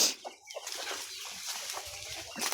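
Young chicks and older hens on a farm offered for sale cluck and chirp in short, scattered bursts, fairly close, with a few brief gaps between calls and no speech.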